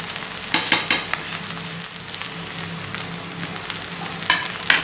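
Sabudana with salt and crushed peanuts being stirred in a hot pan: a constant close sizzle with bursts of scraping spoon strokes, clustered early and again near the end, with no voices.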